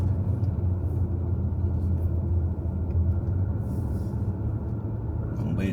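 A car with a manual gearbox driving a mountain road between Newfound Gap and Gatlinburg, a steady low engine and road rumble from inside the cabin that holds constant throughout.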